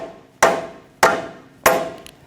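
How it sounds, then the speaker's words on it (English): Rubber mallet tapping a ball joint into a steering knuckle on a 2007-2017 Jeep Patriot 2.4L, three evenly spaced, solid dull knocks, close and alone, each dying away quickly. "Take another rubber mallet and I'm just going to give it some taps."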